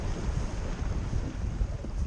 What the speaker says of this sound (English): the wind is gradually picking up, blowing directly down the length of the lake